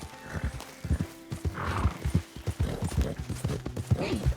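Horse in Red Dead Redemption 2 clip-clopping with steady hoofbeats and letting out a whinny, close and moderately loud, with game ambience beneath.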